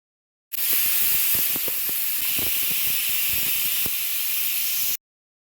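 A pressure cooker whistles while methi pulao (rice with fenugreek leaves) cooks inside, letting out one loud, continuous rush of hissing steam for about four and a half seconds before it stops abruptly.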